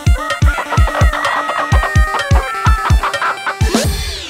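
Chickens clucking in quick, rhythmic, loud bursts at close range, followed by a rooster's crow near the end.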